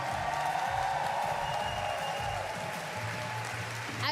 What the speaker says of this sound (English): please give them an even more massive round of applause